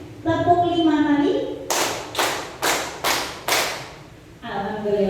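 A roomful of adult workshop participants claps five times in unison on cue, each clap crisp, loud and evenly spaced, framed by someone speaking just before and after.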